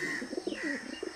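A pigeon coos nearby in a short series of soft, throaty, rounded pulses, fairly quiet and clear against a still background with no speech.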